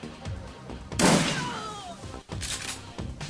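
Gunfire in the turn-based game Shadowrun Returns: one loud blast with a ringing tail, followed by softer rapid shots and clatter.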